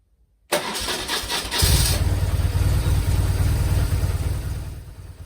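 A BMW R 1150 GS motorcycle engine cranks and catches, then settles into a steady, close, loud idle with a throbbing low rumble that eases slightly toward the end, with no talking.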